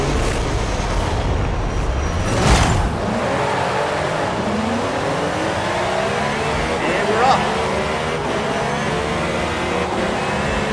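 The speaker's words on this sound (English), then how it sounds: "But this car is loud." A race car engine in Forza Horizon 5 roars and revs up and down continuously, loud and close, with gear shifts and surges; speech occurs alongside.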